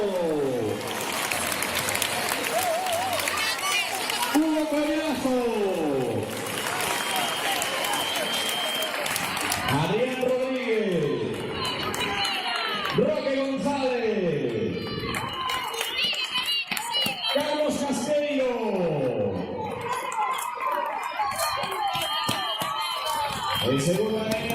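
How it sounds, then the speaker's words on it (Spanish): Loud, sustained audience applause fills the space while an amplified voice shouts names over it in bursts. "¡El aplauso fortísimo!"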